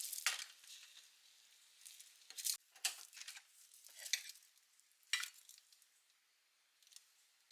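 A thin egg crepe of egg mixed with salt and sugar cooks in a pan over low heat, giving a faint, soft sizzle broken by a few brief scraping and stirring clicks with quiet gaps between them.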